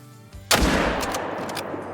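A single loud rifle shot rings out in the Call of the Wild hunting video game, a sharp crack that decays into a long rolling echo.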